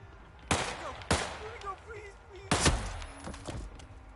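Gunfire in the stealth video game Hitman 3: a few loud, sharp shots spaced apart, with a quick double burst near the end and faint background game noise between them.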